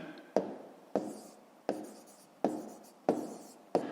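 Six sharp scratches of a pen or pencil on paper as numbers are written by hand during a fifth-grade math exercise, spaced about every two-thirds of a second, close and distinct, with no talking.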